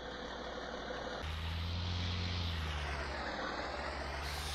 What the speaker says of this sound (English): gotta let it idle out here before we start driving